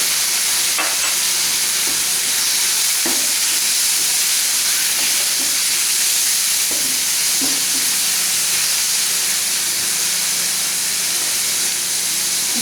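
Chopped onion sautéing in a pan for baba ganoush, a steady close sizzle and hiss with occasional stirring clicks and scrapes, without talk.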